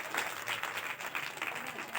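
An audience claps steadily through a religious discourse on the Ramayana, a dense patter of many hands with faint voices mixed in.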